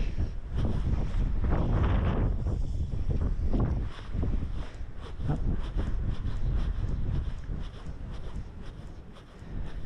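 Gusty wind buffeting the microphone beside a river during salmon fishing, loud rumbling surges that rise and fall over several seconds with no speech.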